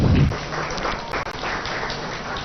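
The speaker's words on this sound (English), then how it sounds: "A round of applause, please." An audience applauds at the launch of a state robotics initiative attended by a minister, a dense, even wash of clapping from a crowd that holds for a couple of seconds.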